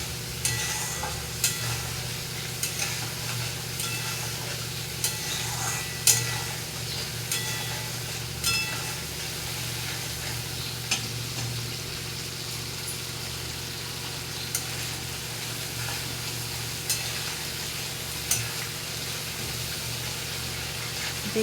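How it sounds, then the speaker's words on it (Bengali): Pointed gourd curry sizzles steadily in a pan on the stove, with a constant frying hiss and occasional soft scrapes as it is stirred, close and with no talking. "একটু নাড়াচাড়া করব।"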